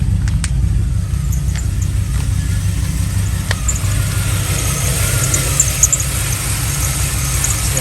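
A 1983 Pontiac Firebird Trans Am running on racing gas idles with a steady, loud low rumble, a faint whine above it and a few sharp clicks scattered over the top.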